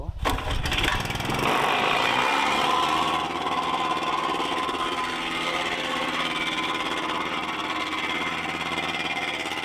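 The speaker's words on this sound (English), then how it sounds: "when you run that solid steel plate compactor across it, it levels those right out" A solid steel plate compactor runs across a brick patio being leveled, its engine roaring loud and steady with a gritty vibrating rumble that holds for the whole stretch after a brief start-up.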